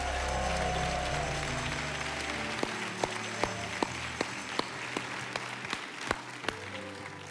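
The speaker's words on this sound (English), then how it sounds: "Would you please give each other a great round of applause?" A church congregation applauds in a sustained, fairly soft spread of clapping, with a few sharp, distinct claps standing out in the later seconds as it continues.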